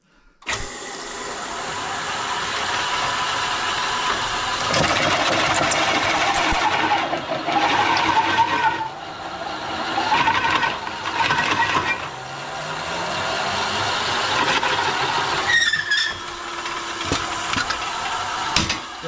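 A custom log railing machine cuts a 2.5 inch tenon on a log, giving a loud, steady mechanical whine and grinding roar for nearly the whole stretch, with small rises and dips in pitch as the cutter works.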